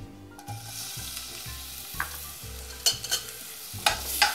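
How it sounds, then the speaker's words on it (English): White onions sweating in extra virgin olive oil, a gentle close sizzle under repeated rhythmic stirring strokes and occasional scrapes against the pan. "we're gonna start sweating these white onions"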